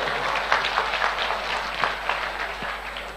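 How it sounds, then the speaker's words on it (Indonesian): A group claps together in a classroom or gathering, a fairly close, even stretch of hand claps with a few louder individual claps standing out, and no talk over it. "berikan tepuk tangan dulu untuk teman-teman semuanya"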